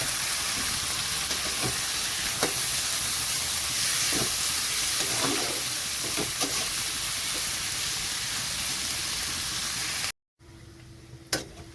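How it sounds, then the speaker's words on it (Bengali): Onion, green chilli and garlic fry in hot oil for a masala base, giving a dense, steady sizzle with occasional stirring clicks. After a brief cut near the end, the sizzle returns quieter. "এখানে মশলাটা ভাজা হয়ে গেছে"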